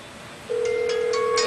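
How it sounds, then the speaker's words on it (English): A phone begins to ring close by: a sustained electronic tone with brief higher chirps layered over a steady background hiss. "now my cell phone's ringing"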